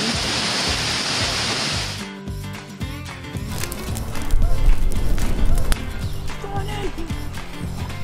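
Heavy rain pours at a campsite in Algonquin Park, a loud dense hiss that cuts off abruptly, then gives way to mixed splashing and movement sounds.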